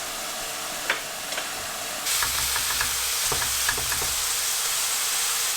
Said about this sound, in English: My bay leaves started spattering because they were very fresh.